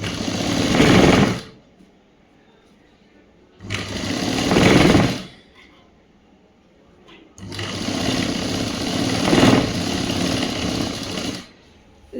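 A sewing machine stitches a boy's government school uniform shirt, running in three loud, steady bursts separated by short pauses, the last one longest.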